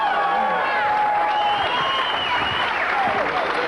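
A 1994 stand-up comedy audience applauding in a steady, dense wash of clapping with some cheering, loud and continuous throughout.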